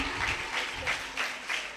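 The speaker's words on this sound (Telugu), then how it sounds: "క్లాప్స్ కొడదాం" A small group of women at a Bible quiz clapping briefly, a short burst of close, scattered hand claps with a few distinct pulses.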